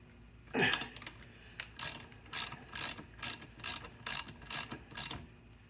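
A ratchet tightens a jam nut during a rebuild of a seized 1979 Vespa P200E engine. It gives close, crisp bursts of clicking, about nine or ten in a steady rhythm, with no talk.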